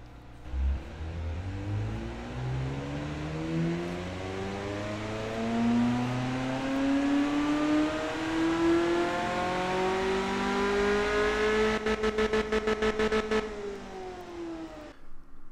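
A loud car engine with a straight-through muffler in the Automation game, revving steadily upward in pitch over several seconds with a raspy, buzzing exhaust note, then a brief stuttering limiter-like chatter before dropping off.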